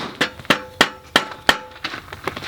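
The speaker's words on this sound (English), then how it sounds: "You can always use your rubber hammer" A rubber hammer tapping parts of a paramotor quad frame, about eight evenly spaced knocks with a short metallic ring after each, close and distinct with no talking.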